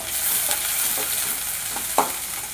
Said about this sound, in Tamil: ஆட் பண்ணி வதக்கி எடுத்துக்கலாம்.